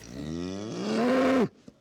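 A cow lets out a long, loud moo at an agricultural show, rising in pitch and swelling before cutting off abruptly, followed by a faint brief click.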